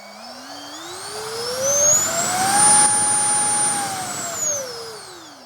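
A model jet's electric ducted fan runs a full-power test from a large battery, its whine rising in pitch as it spools up, holding a loud steady roar with high harmonics, then winding back down, close by with no talk.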